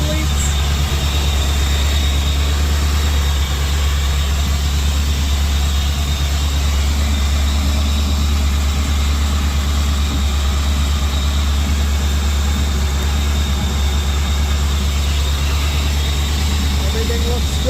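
An SN95 Ford Mustang engine idles steadily just after new spark plugs and rerouted wires, giving a loud, even, continuous low rumble close by with no change in pace throughout.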